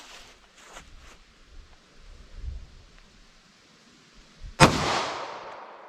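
A single sharp report from a compact Smith & Wesson M&P Shield pistol firing .45 ACP 230 grain full metal jacket ammunition, loud and close, with a decaying tail after some quiet rustling.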